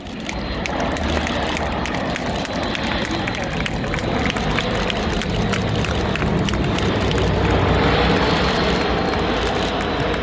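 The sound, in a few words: Airbus A400M military transport aircraft maneuvering in flight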